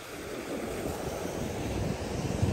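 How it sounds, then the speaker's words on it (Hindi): Strong sea wind gusting across the microphone on a Mangalore beach, a steady broadband roar mixed with faint surf that swells slightly louder toward the end, with no voices. "लेकिन हवा गजब आ रही है, तो पानी से हवा लग वो हवा पैदा हो रही है"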